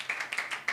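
Children at a Sunday school Bible quiz clap in a quick, even rhythm, a short, faint burst of a few hand claps with no talking.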